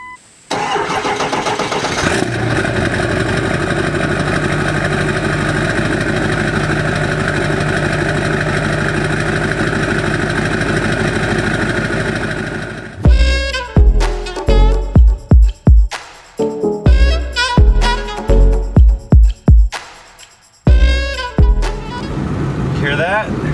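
A Ford 7.3L Powerstroke diesel truck engine runs in a steady loud drone for about thirteen seconds, then gives way to choppy bursts of someone talking over a quieter engine.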